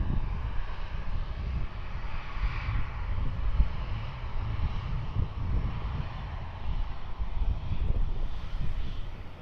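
A Batik Air Flight 192 airliner on its rolling departure from Perth Airport gives a steady, broad jet roar from a distance, with faint wind buffeting the microphone.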